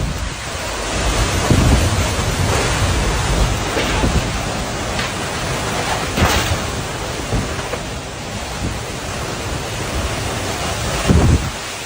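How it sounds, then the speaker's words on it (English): An intense tornado roars past a house in Illinois: a loud, unbroken rush of wind and rain-like noise with occasional heavier gusts and thumps, and no voices. "a super intense tornado went past this guy's house in Illinois"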